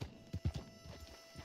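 Hoofbeats of an Ardennes draft horse in the Red Dead Online video game, a few soft clip-clops at a walk at night, fairly faint and close, with no talking over them.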